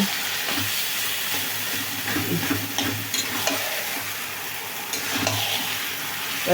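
Taro greens frying in a pan, stirred steadily, with a continuous close sizzle and repeated scraping of the spoon through the leaves.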